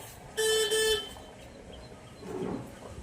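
A family car pulling up at home gives a short double toot of its horn, loud and close, followed by the faint rumble of the vehicle settling nearby.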